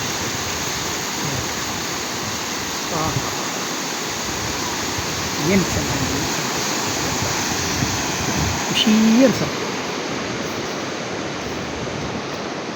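Steady roar of sea waves washing onto a shore at sunset, a continuous broadband wash with slight swells, while a person speaks briefly over it.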